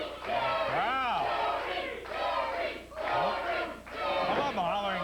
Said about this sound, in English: Some of them hollering Tony, some of them hollering Jerry.